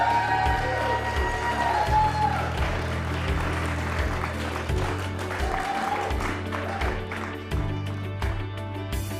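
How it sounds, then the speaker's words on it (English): An audience at an awards evening claps steadily for a named recipient, a dense patter of hands that carries on throughout, with music playing underneath. "we will pause very briefly just so we can applaud you"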